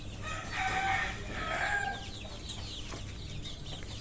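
Desi hens and their chicks on a farm cluck and cheep faintly at a distance, with a few bright calls early on over a steady low background hum and no talking.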